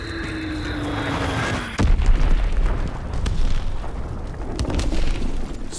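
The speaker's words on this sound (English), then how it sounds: "Dropping Fritz X-Bomb!" A Fritz X guided bomb strikes in Call of Duty: WWII, with a heavy boom bursting in after a droning aircraft whine, then a loud rumbling roar that carries on with scattered crackles.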